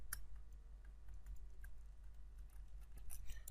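Quiet, steady typing on a computer keyboard with irregular light key clicks over a low background hum, no voices.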